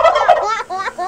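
Turkey gobbling close by on a farm with donkeys and chickens, a loud rapid warbling burst that trails off into a second shorter gobble.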